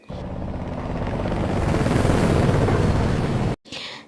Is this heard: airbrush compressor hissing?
no